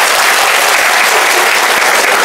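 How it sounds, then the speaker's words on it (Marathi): Audience applauding loudly for a minister at a public gathering, dense sustained clapping from a large crowd filling the whole stretch, close and even. "एकदा मंत्री महोदयांसाठी हृदयाच्या तळापासून जोरदार टाळ्या होत्या एकदा."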